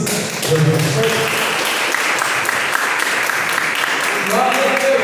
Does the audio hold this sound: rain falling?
no